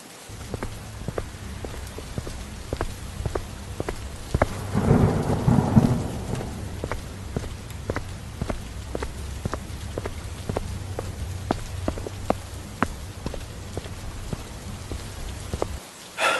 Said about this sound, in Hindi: बारिश बहुत तेज थी, बस यही मिल पाए।